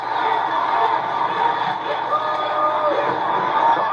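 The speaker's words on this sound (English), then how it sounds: "Listen to the crowd in this wonderful venue" A large crowd at a wrestling event venue roars in a dense, continuous wash of noise that stays loud and steady throughout.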